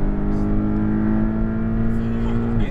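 A Porsche Cayman GTS at full throttle on a racing circuit gives a loud, sustained engine drone with a steady pitch, briefly easing near the end. A voice speaks faintly over it.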